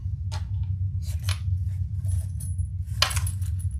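Scissors snip through material while the other side of a sewn flap project is trimmed, with several short crisp cuts over a steady low background hum.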